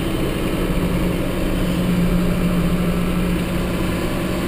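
An IH 1086 tractor engine idles steadily while being parked, a loud, low, even rumble with constant vibration and no breaks.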